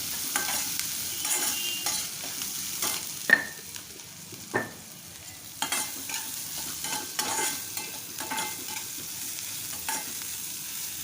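Onion and crumbled stale bhakri frying in a pan for chivda, a steady low sizzle broken by irregular scraping stirs and a few sharp clinks of the spoon against the pan.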